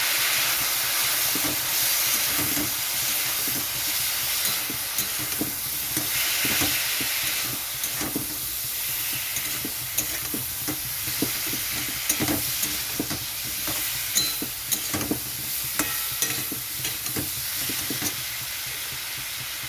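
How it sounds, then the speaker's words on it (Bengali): Spice paste for a fish curry with papaya and potato sizzles steadily in a pan with a splash of water, broken by frequent scraping stirs of a spatula, close and continuous with no voices. "এখন আমি এটা কষাবো ভালো করে। এখানে আমি দিয়ে দিচ্ছি জল মশলাটা কষানোর জন্য।"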